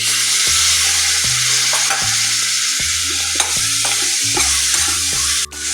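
Chopped tomatoes and spices for tomato chutney sizzle loudly in a pan as a spoon stirs them in steady, repeated scraping strokes, with no voices.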